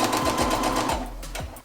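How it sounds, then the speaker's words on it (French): A sewing machine stitches plush toy fabric folded right side to right side, leaving an opening for stuffing. It makes a steady close whir with quick rhythmic needle ticks running throughout, with no talking. "Et maintenant je vais coudre toujours en laissant une ouverture pour pouvoir rembourrer."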